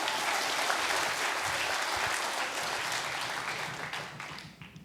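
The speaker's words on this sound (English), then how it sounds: "Can we give him a quick round of applause?" A conference crowd at a lightning-talk session applauds for about five seconds, dense steady clapping that tapers off toward the end, with no one speaking over it.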